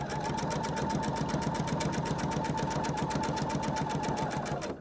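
A sewing machine stitches quilt pieces at a steady fast pace, its rapid even needle clatter and motor whine running continuously and close, fading only at the very end.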